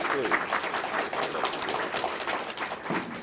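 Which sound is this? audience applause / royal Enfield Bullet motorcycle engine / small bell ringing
audience applause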